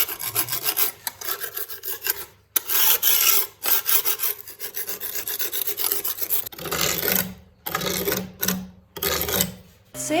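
A Vitals electric sander grinds and rasps against a surface, starting and stopping in bursts, with a steady whooshing drone from a connected vacuum cleaner running alongside.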